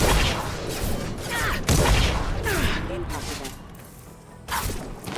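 Shotgun fire in the video game Mass Effect 2 comes as a few heavy, booming blasts spread across the stretch, mixed with chaotic combat noise and a voice talking over it.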